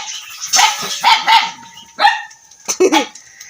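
A dog barks loudly and close by in a series of about five sharp barks in uneven bursts, with short pauses between them.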